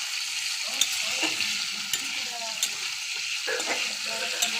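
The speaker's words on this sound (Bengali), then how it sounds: "কড়াই তেল দিয়েছি, সর্ষের তেল দিয়ে সজনা ডাঁটাগুলো দিয়ে দিয়েছি। এবার একটুখানি ভেজে নেব।" Steamed moringa drumsticks fry in mustard oil in a kadai, with a steady sizzle throughout and occasional stirring clatters, heard up close with a faint voice in the background.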